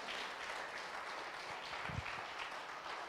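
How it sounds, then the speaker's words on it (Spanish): Church congregation during a bilingual Spanish-English service claps for the Lord, a continuous, even roar of many hands held at moderate level from start to finish. "Give a hand clap to the Lord."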